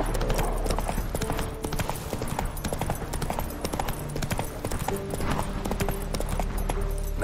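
Hooves of Roach, a horse in The Witcher 3: Wild Hunt, clip-clop in a steady, continuous rhythm for the whole stretch, set against a low ambient bed with a faint whinny.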